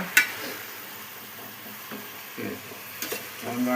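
Onions fry in oil in a pot for a chicken biryani, a soft steady sizzle running throughout with occasional faint clinks and stirring scrapes.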